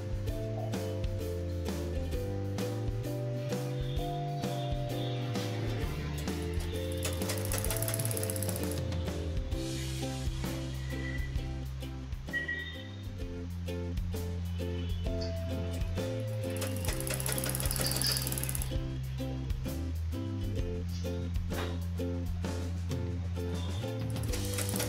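A sewing machine stitches a blouse in a steady fast mechanical chatter, running in long bursts with brief pauses, close and clear with no talk.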